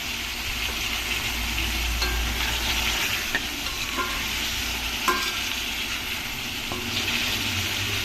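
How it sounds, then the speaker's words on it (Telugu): Tomato pieces fry in a pan with a steady, close hiss and sizzle, stirred now and then with light clicks and scrapes of a utensil against the metal. "టమాటా ముక్కలు కొంచెం బాగా మగ్గేంత వరకు వేయించుకోవాలి"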